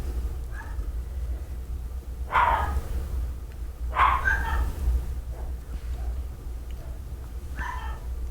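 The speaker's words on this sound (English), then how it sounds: "Excuse my dogs if you can hear them barking out there." Several dogs bark in short bursts from another room, muffled and moderately distant, spaced out over a steady low background hum.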